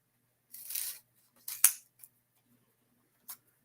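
Scissors snipping through material for a Halloween craft, a few short, close, crisp cuts spaced irregularly with quiet pauses between them.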